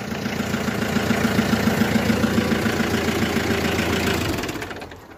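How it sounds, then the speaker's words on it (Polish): A diesel forklift with an indirect-injection engine idles steadily at close range, a dense low rumble with a faint knocking pulse that runs evenly and then tapers off near the end. "Po prostu wózek, silnik z pośrednim wtryskiem, wymagający sprawnych świec żarowych do rozruchu na zimno, a on ma pewne obiekcje."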